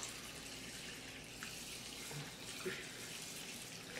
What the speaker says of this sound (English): So I've already measured out the 2 1/4 cup of water in here. So I'm going to pour it in.